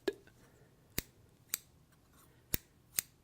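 Scissors snip four times at uneven intervals, each a crisp, close metallic cut against a quiet background.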